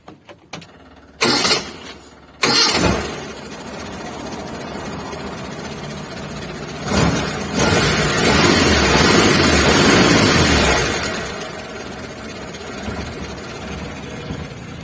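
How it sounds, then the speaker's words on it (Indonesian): A Suzuki Carry T120SS engine cranks in short bursts, catches and settles into a steady idle, revving up briefly mid-way before easing back to a smooth idle, recorded close with no speech. "kita coba dulu tes hidupkan mesinnya untuk mendengarkan suara mesinnya"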